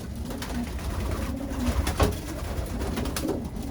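Pigeons coo in a racing-pigeon loft, a steady low murmur of many birds close by with a few louder calls rising over the chorus, no voices.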